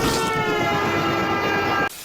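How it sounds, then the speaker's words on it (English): A model train set in Foley, Alabama runs with a loud, steady mechanical rumble and a sustained whistle-like tone, then cuts off abruptly near the end. "looking at the model train set"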